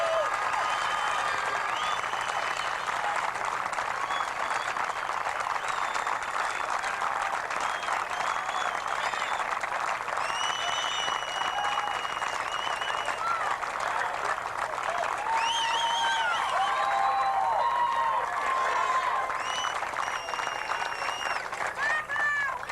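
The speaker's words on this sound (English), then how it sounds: "I think we should all give the Brandeis team a big round of applause for a great," Sustained applause from the crowd at the 1984 national championship game between Wheaton and Brandeis, a dense continuous roar of clapping with scattered whistles and shouts running throughout.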